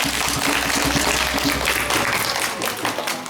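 Loud applause from a crowd of children at a storytelling show, a steady dense patter of clapping with some voices mixed in, fading slightly toward the end.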